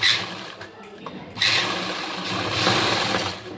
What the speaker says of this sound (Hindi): अब हम लगभग आधा पौना इंच छोड़ करके एक और सिलाई लगा देंगे, ठीक है। पक्की सिलाई लगानी है